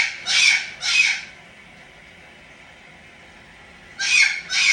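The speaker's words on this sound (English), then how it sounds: "Do you really want a pet bird?" A pet bird lets out two shrill, piercing squawks close by, falls quiet for a few seconds, then squawks twice more, with no one talking.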